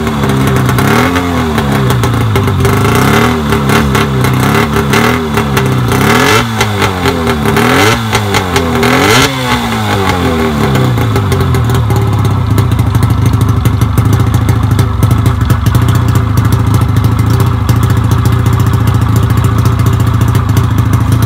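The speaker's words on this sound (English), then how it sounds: "I just put a little bit of gas in the carburetor here to fire it up" A Seadoo 587 two-stroke jet ski engine, run on gas poured into the carburetor, fires up and revs repeatedly, loud and close, then settles into a steady buzzing idle for the rest of the run.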